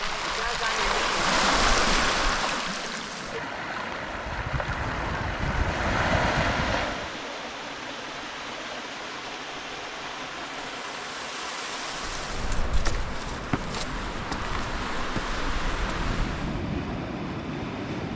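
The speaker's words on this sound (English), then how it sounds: "And there's the ocean." Ocean surf breaks on a rocky beach along Maine's Cutler Coast, a broad steady roar that swells and eases, with heavy wind buffeting the microphone and no voices heard.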